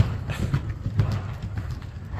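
Horse hooves clip-clopping as a big, fast horse runs, plays and kicks out, a quick uneven patter of hoofbeats at moderate distance with no talk.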